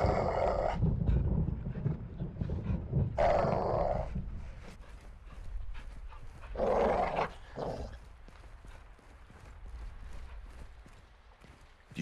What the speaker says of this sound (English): You see the caged dog? Big geezer. If he barks, shoot him